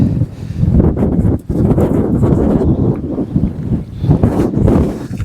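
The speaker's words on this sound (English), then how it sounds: "Whoa, it's getting windy." Strong gusty wind on the Isle of Skye buffets the microphone, a dense low roar rising and dipping in waves without any voices.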